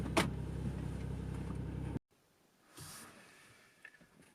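A car backs out of a home garage with a loud, close engine idle and rumble that cuts off abruptly, followed by quieter mechanical rustling and faint knocks.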